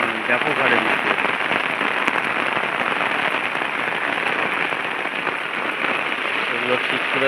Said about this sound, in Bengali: ব্যাপক হারে বৃষ্টি হচ্ছে।